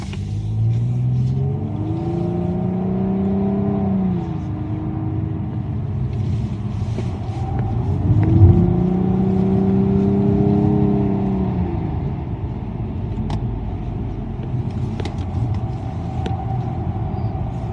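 A Nissan Maxima cornering on a driving-course route gives a steady engine rumble with a tone that rises and falls as it works through the turn, close and continuous with no talk.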